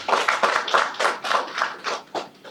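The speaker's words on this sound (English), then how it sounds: "may we give him a very good round of applause again." Clapping from the audience at a memorandum of understanding signing ceremony at Mzumbe University, a steady run of claps lasting a few seconds at moderate volume with no talk over it.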